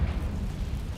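A Confringo blasting spell detonates in Hogwarts Legacy, a short deep rumbling burst that fills the low end loudly for about a second with no voice over it.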